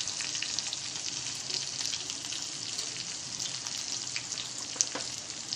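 Cumin seeds and green chilies sizzle in hot oil for a tempering of sabudana khichadi, a steady close crackle of frying with no talk.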